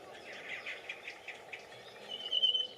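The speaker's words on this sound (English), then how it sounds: "Just listen to that beautiful song. It's almost as good as a nightingale, but not quite." Songbird with a rich, nightingale-like song outdoors at Paxton Pits, rapid repeated phrases faint and a little distant, swelling into a brighter, louder burst near the end, no voices.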